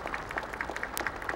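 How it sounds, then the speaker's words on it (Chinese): Applause fills a hall at a 1990 Republic of China National Day rally following President Lee's speech, a steady wash of many hands clapping at moderate level for a brief moment. "在会场响起了一片掌声"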